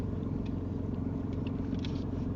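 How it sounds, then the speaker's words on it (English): A car coming along the road toward a learner driver's car, a steady low rumble of engine and tyres throughout, moderately close, with no talk. "Look at the car coming."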